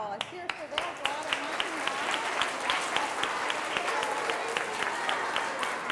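An audience at a school check presentation to a charity breaks into sustained applause with scattered sharp claps, steady and fairly close throughout, while a voice speaks over it.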